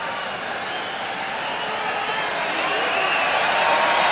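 A rugby stadium crowd at a 1995 World Cup match between France and Ireland keeps up a dense, steady wash of applause and cheering that swells slightly toward the end.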